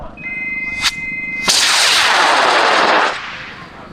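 A high power model rocket lifts off on an I-218R motor, a sharp crack followed by a loud, roaring burn that holds for about a second and a half before fading, heard from a moderate distance at a launch site.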